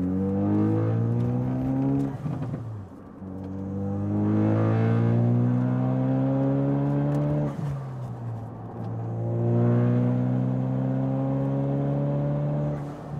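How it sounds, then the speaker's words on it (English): A Ford Focus RS engine in sport mode revs repeatedly, its pitch climbing and falling in long sweeps, with crackling exhaust pops between pulls, close and loud. "perks of sport mode, you get lots of pops."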